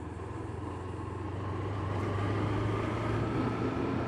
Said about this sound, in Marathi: गाडी भुरभुर भुरभुर करायला लागली.